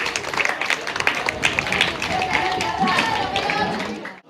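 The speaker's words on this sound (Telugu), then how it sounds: "అందరు చప్పట్లు కొట్టాలి గట్టిగా" Audience clapping at a school Independence Day celebration, a dense, steady burst of many hands applauding together, fairly loud and sustained for several seconds before trailing off, with voices mixed in.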